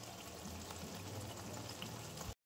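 A faint, steady sizzle and bubbling of spice paste with yogurt and sauce sautéing in a pan, continuous and quiet before cutting off abruptly.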